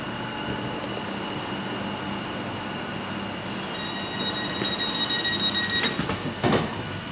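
Steady rumble and hum inside a moving second class train carriage between Luxembourg and Trier, with a rail squeal rising briefly near the end over constant interior noise.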